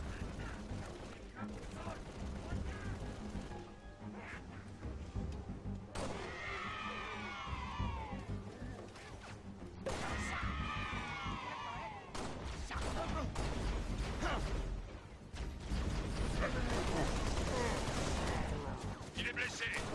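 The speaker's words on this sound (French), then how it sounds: "Il me tire dessus." Gunfire rattles through a Halo: Reach battle, with bursts of automatic shots, sharp single blasts and explosions mixed with whooshing game effects and in-game voices speaking.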